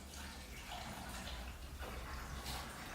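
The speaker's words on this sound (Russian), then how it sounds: "вот смотрите, я наливаю воду сюда в бутылочку" Water poured into a small bottle, a soft continuous trickle with faint splashy bursts, quiet and close, running steadily for a few seconds without speech.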